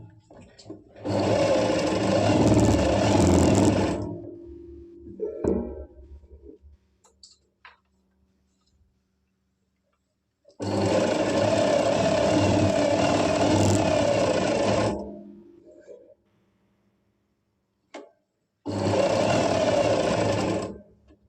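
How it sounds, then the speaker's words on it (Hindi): An electric sewing machine stitches the crotch seam of a cut palazzo front panel, running in three loud, steady bursts of rapid mechanical whirring with brief pauses and faint handling clicks between them. "इसके क्रोच को हम ऐसे सिल लेंगे"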